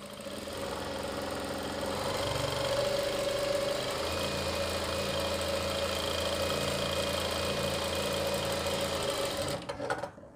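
A sewing machine stitches a Muslim cap with a steady, continuous mechanical hum and rapid needle chatter, running evenly for about ten seconds before stopping at the end, with no voices.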